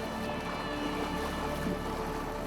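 A steady low boat motor drone over the sea, faint and continuous, with wash and wind noise around it.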